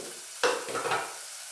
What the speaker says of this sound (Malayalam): സവാള ഇട്ട് കൊടുത്തു, പച്ചമുളക് ഇട്ടു, ഇഞ്ചിയും വെളുത്തുള്ളി ഇട്ടു